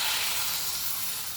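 Water hitting sautéed ivy gourd in a hot pan gives a loud, steady hiss and sizzle of steam, close up and continuous, with no talking.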